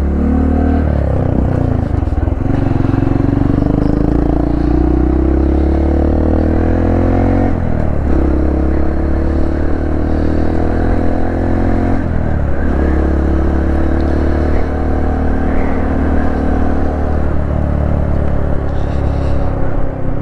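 A Honda CT125 motorcycle rides steadily, its engine loud and close, droning continuously with a few gear-shift dips and rises in revs over wind rumble.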